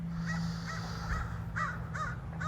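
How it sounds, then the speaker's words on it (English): Crows overhead outdoors in mountain country give five or six clear caws at an even pace over a steady background hum, fairly close and distinct, with no talk. "I got some crows over my head."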